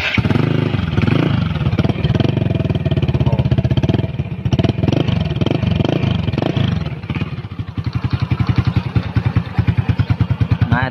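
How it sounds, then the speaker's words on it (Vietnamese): Modified motorcycle started up while parked at a wash, its engine idling with a loud, rough, rapid pulsing beat close by, with clattering mechanical knocks early on and the exhaust throb steadying toward the end. "mình nổ thử tiếng máy lên nè"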